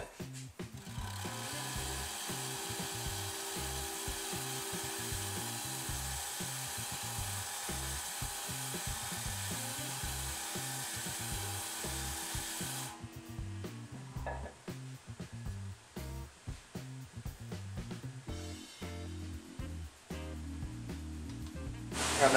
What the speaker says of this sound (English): Now I'm going to use the sanding board in this fashion and sand this until it's perfectly flat.